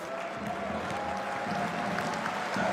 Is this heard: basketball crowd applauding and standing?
yes